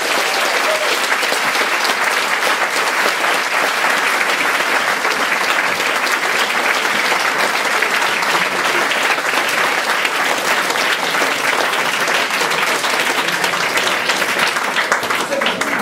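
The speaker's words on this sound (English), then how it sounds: "another round of applause for that fantastic presentation" Sustained, loud applause from an audience at a Bettakultcha presentation evening in Leeds, dense clapping that holds steady for about sixteen seconds without letting up.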